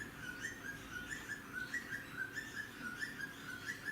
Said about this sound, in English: Can you hear the birds? Oh, that's lovely.